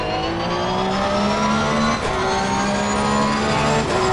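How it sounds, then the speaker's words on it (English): A Porsche race car in Assetto Corsa Competizione at Brands Hatch, its engine revving hard at high rpm with a harsh, buzzing tone and brief dips at gear changes, loud and continuous with no talk. "It's got a really annoying tone to it when you're at high revs."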